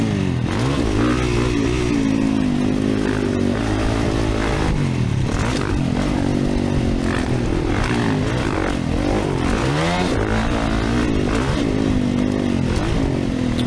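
A 2024 Kawasaki KX450 dirt bike ridden on a backyard motocross track, its engine loud and close throughout, revving and dropping repeatedly through throttle blips over jumps and corners.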